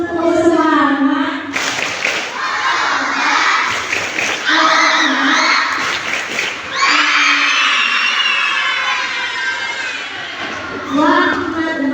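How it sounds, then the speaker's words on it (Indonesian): Sixth-grade schoolchildren perform the rhythmic 'tepuk semangat' clap-and-chant: loud group shouting and chanting in unison, with bursts of claps between phrases and an excited crowd of young voices throughout. "Coba kita sama-sama tes sebuah semangat ya. Tepuk semangat."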